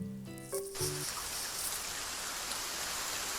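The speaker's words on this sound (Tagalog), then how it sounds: "Araw ng Linggo ay biglang bumuhos ang napakalakas na ulan." Heavy rain pours down in a steady, even hiss throughout, moderately loud and unbroken, with a brief tonal sound at the very start.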